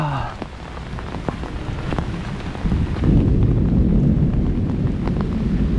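Heavy rain pounds down outdoors, close and constant, with a low rumble of thunder swelling in about halfway through and continuing under the downpour.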